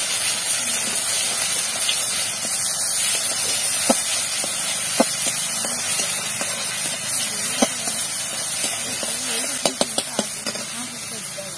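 Onion paste fries in white oil in a wok, giving a steady close sizzle with occasional sharp pops and spatters, while a person talks over it.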